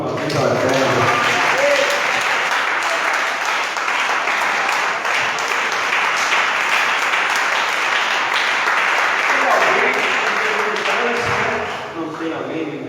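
A church congregation applauds loudly and steadily, many hands clapping together for most of the stretch and fading near the end, with some voices mixed in.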